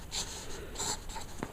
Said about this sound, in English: And just start sketching things in there.